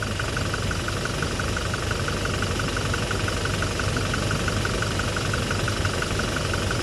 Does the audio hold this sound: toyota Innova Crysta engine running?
yes